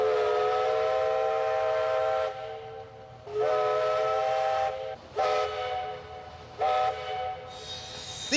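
A steam train whistle at Echuca, Australia, blows in long, loud, harmonic blasts, several in a row with brief gaps and a couple of short toots near the end.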